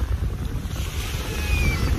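Sea surf rolling steadily at a seaside amusement park, a continuous low wash of waves mixed with wind buffeting the microphone, with no voices present.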